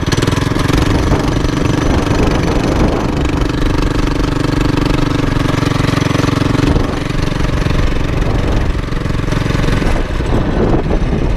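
A Predator engine-swapped ATV, just repaired after a fuel starvation fault, runs continuously and loudly up close, its steady mid-pitched engine drone holding for the whole stretch with a brief dip near the middle.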